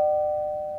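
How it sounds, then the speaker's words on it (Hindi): A doorbell rings at night as a single sustained electronic tone, clear and close, fading slowly with no talking. "अगर आज़र आया ना तो वो घंटी नहीं, यहाँ पर खतरे की घंटी बजेगी।"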